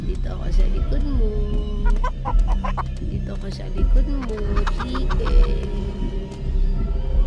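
A giant chicken in a scary video game clucks repeatedly in short, close bursts over a low background rumble, with voices talking in between.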